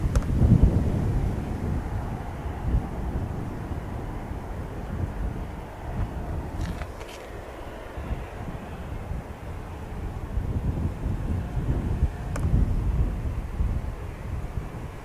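Strong wind buffets the microphone outdoors at Manchester Airport, a constant loud low rumble with gusting swells throughout and no talk.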